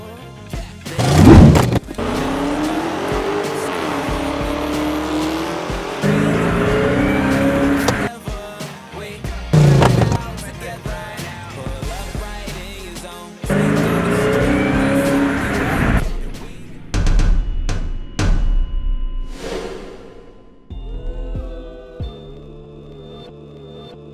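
A 2020 Dodge Charger SRT Widebody revs and squeals its tires in loud bursts separated by brief quieter gaps, with engine roar building and cutting off several times, close and dominant.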